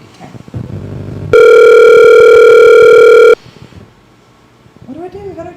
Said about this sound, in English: Okay, Sherry, we're gonna give you a ring and then we'll introduce you